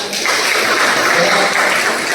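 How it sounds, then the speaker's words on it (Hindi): A loud, dense wash of audience applause at a business seminar, swelling after a brief pause and holding steady for a couple of seconds. "जोरदार ताली जाए"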